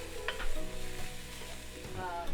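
Chopped carrot cooking in a pan for marinara sauce, a steady close sizzle and frying hiss with stirring scrapes throughout, no talking.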